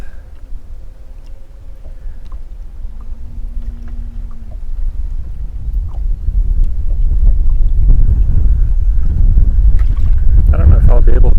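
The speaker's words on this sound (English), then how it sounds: "so you guys can hear the wind" Wind gusts buffet the microphone while fishing for bluegill from a boat, a low rumbling roar that builds steadily louder toward the end, with faint clicks and handling noises scattered throughout.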